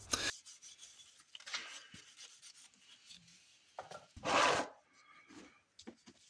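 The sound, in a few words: rubbing light coat of golden oak stain onto wood slats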